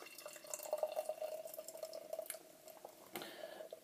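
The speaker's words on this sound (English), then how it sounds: "So let's get to the pour and let's get cracking." A 6% Black IPA from Twisted Wheel Brew Co. being poured into a glass, a faint, quiet trickle and gurgle of liquid that runs for a few seconds, ending in a soft splash and drip.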